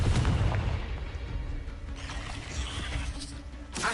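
In the Hogwarts Legacy video game, a Confringo blasting spell explodes with a deep boom at the start that rumbles and fades, followed by a fresh burst just before the end.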